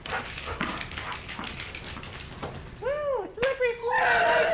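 A pet dog whines and yips eagerly for a toy, rising squeaky whimpers and yelps close by, growing more insistent toward the end, with a person talking over the first part.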